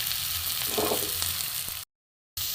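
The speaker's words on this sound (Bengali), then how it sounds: "কাঁচা লঙ্কা টমেটো পেঁয়াজ সাথে একটু ভালো করে ভেজে নেব" Spices with green chilli, tomato and onion fry in a pan, with a continuous close sizzle and a few stirring scrapes before a brief cut to silence.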